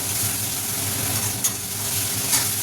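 Pointed gourds (potol) stirred in hot oil in a pan, a steady close sizzle of frying with faint scraping of the spatula and a couple of brief clinks, no voices.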